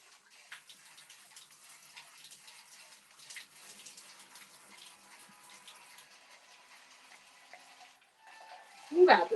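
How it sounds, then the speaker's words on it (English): Water from a small fountain running steadily beside a bath, a soft continuous trickle and splash that stays faint and even, with a louder voice breaking in at the end. "You enjoying the ambient sound of your little water fountain over here?"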